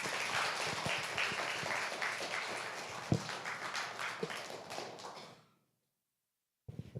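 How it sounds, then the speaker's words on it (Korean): A church congregation at a Sunday service applauds to welcome the pastor, dense sustained clapping filling the room for about five seconds before cutting to silence, then a brief rustle. "우리 큰 박수로 목사님 청하도록 하겠습니다"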